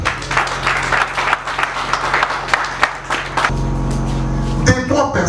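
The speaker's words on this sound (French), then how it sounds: "Applaudissez le monde" An audience applauds in a hall, a broad burst of clapping mixed with crowd noise and a low hum, giving way near the end to a steadier tone.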